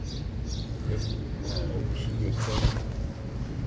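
Pigeons coo in a loft of Turkish fancy pigeons, low soft murmuring calls repeating steadily under a constant background hiss, with a brief sharper sound near the end.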